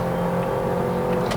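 Inside a Toyota Yaris Ativ 1.2L car accelerating to overtake in Bangkok traffic, a steady engine drone holds beneath road noise, with a faint rising whoosh near the end.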